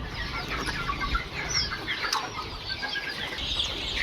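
Young Egyptian Fayoumi chicks about a week old on a poultry farm, with busy overlapping peeping and clucking throughout, fairly close against a steady farmyard background of fowl and a low rumble.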